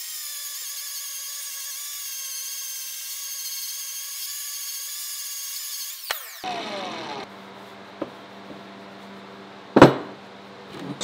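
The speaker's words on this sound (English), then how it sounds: "disc on a slower speed grinder and grind out these heavy scratch marks to make it smoother" A slower-speed angle grinder fitted with a grinding and finishing disc works on metal, smoothing out heavy scratch marks. A steady high whine runs for several seconds, then drops into a lower grinding tone with a few sharp knocks.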